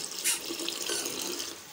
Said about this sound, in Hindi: अब इसमें हमें इसमें पानी शामिल करना है